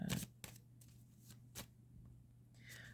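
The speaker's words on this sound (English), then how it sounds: "I'm just going to shuffle these oracle decks" Oracle card decks being shuffled by hand in a quiet room, several soft riffling bursts and taps spaced across a few seconds, close and faint with no talking.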